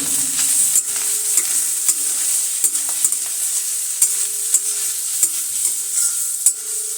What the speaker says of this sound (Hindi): कैसे पता चलेगा गाजर भून गई